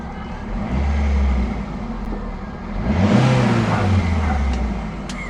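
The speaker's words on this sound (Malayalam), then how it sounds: "അപ്പോൾ എന്തായാലും നമുക്കൊന്ന് റേസ് ചെയ്ത് നോക്കാം" A used car's engine revs in neutral, rising from a steady idle to a loud surge and falling back again, heard close and alone with no talking.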